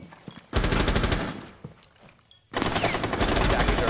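Rapid automatic gunfire in a Rainbow Six Siege esports match, two loud sustained bursts separated by a brief lull with scattered single shots.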